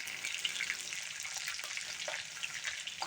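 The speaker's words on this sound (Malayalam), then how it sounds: "നമുക്ക് വെളുത്തുള്ളിയും ഇഞ്ചിയും കൂടി ഒന്ന് ചെറുതായിട്ടൊന്ന് മൂത്ത് വരട്ടെ" Garlic and ginger fry in hot oil for a homemade lemon pickle, a steady close sizzle and crackle running throughout with small pops scattered across it and no voices.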